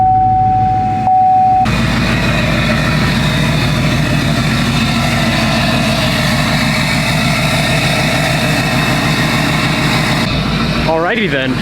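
A truck engine runs at a steady idle, loud and close, with an even low rumble and a brief quieter stretch before it settles into a continuous drone.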